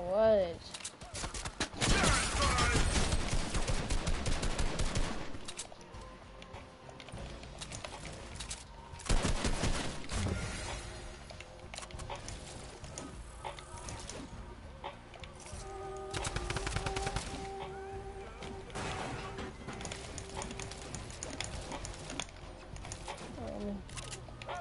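Enemy gunfire in a shooter video game comes in bursts of rapid rattling shots, a long heavy volley near the start and further sharper bursts later, with a game voice and tones sounding between them.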